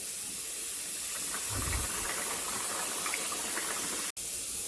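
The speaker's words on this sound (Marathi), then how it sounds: "आता आपण तळून घेऊया. तेल छान तापलेलं आहे." Puris frying in hot oil over high heat, a soft steady hiss and bubbling sizzle throughout, with a brief dropout near the end.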